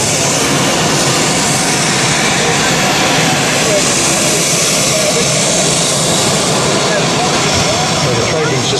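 Aircraft engine roaring at an airshow, a loud continuous broadband drone held steady throughout, with voices talking beneath it.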